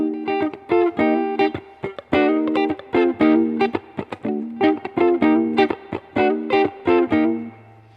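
A fast, distorted electric guitar gospel shout riff of quick repeated chord stabs and bends, played loud and rhythmic with no voices.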